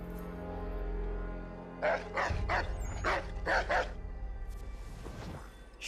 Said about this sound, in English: the dog will just ignore it and bark.